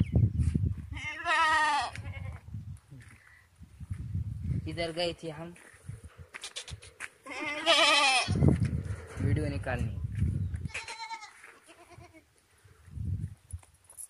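A goat on a village farm bleats several times in drawn-out, wavering calls, fairly close, alternating with someone speaking.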